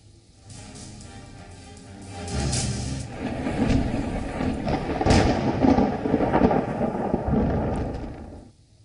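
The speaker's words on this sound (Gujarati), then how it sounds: "રાધનપુરમાં વિરામ બાદ ધીમી ધારે વરસાદ વરસ્યો" Light rain sets in over Radhanpur in Patan after a long dry spell. A soft hiss swells into a steady wash with deep rumbling undertones, close and continuous, then fades out.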